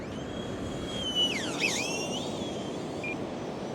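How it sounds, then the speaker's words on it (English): A small radio-controlled UMX Messerschmitt 262 model jet whines high as it sweeps past, rising and falling in pitch as it banks overhead against a steady background hiss. "It's a nifty little plane."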